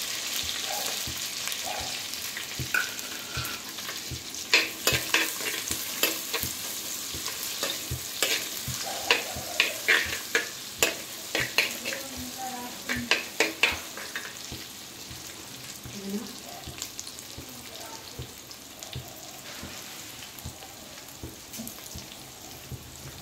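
Spices frying in a pan for a fish curry hiss steadily while a spoon scrapes and taps in bursts of stirring, with no voices.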